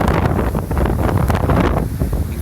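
Strong wind buffeting the microphone in hurricane aftermath at a resort, a loud, continuous rough roar with gusty surges and no voices.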